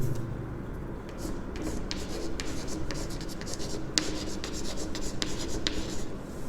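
Someone writes by hand during a maths lesson, with soft scratchy strokes and small taps continuing steadily at close range, with no talking.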